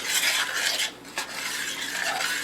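Sauce ingredients, including bouillon cubes, being stirred together in a pot before heating: a close, continuous scraping and swishing of a utensil against the pot with a brief pause midway and no talking.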